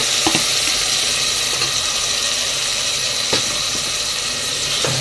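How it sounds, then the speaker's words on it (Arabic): Diced tomatoes and onions sauté in a pan over high heat for Egyptian mahshi, a loud, steady, close hiss of frying with a few sharp clicks from stirring. "هنزل بقى بالطماطم اهي متقطعه مكعبات صغيره، وهديها برده كده تشويحه حلوه"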